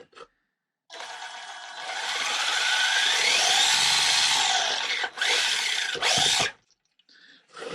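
The electric motor of a 1:10 scale four-wheel-drive all-terrain RC car running: a close, rising and falling high-pitched whine lasting several seconds, cut off briefly, then another short burst.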